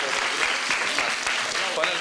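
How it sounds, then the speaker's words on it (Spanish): A crowd claps steadily and densely, a sustained round of applause with voices mixed in. "Un aplauso para él."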